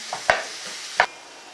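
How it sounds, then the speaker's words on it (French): Aubergines simmer in a pan as a utensil stirs them, giving two sharp knocks against the pan over a low, quiet simmer. "Remuez et laissez mijoter un petit peu."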